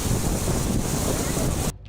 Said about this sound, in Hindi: साई साई करती तेज हवाओं के साथ बारिश भी शुरू हो गई।